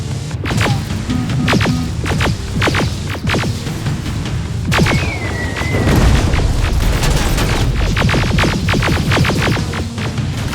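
Heavy booms and sharp blasts from grenade explosions amid continuous gunfire in the Terminator Resistance video game, loud and dense throughout with no speech.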